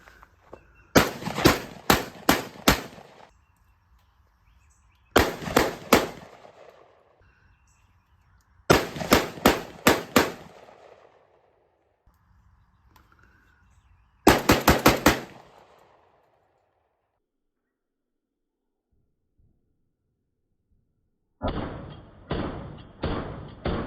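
Mossberg 930 Tactical semi-automatic shotgun firing shells in quick strings of sharp, loud blasts, four or five rapid groups separated by pauses, with faint handling noise between them and no talk.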